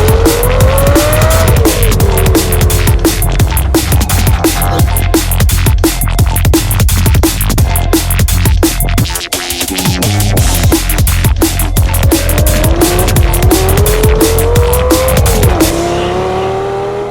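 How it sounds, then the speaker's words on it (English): A 2006 Lamborghini Gallardo drives hard, its engine roaring loudly and steadily with gear changes and rising revs while its tires squeal continuously underneath, close and unbroken for the whole stretch. "This is my 2006 Lamborghini Gallardo."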